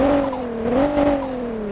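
A Lotus Esprit V8 engine revs steadily in a racing video game, a sustained droning tone that rises slightly and then eases back down across under two seconds, loud and alone without talk.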